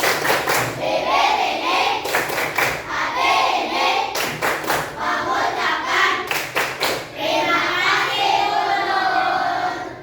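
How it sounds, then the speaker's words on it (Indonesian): A class claps a patterned thank-you clap, bursts of quick claps alternating with pauses, while children's voices chant along between the claps. "Tepuk terima kasih."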